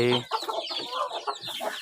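Burmese game chickens, young birds along with breeding hens and roosters, cluck and squawk at an evening feeding of paddy rice, several close, overlapping calls in quick bursts.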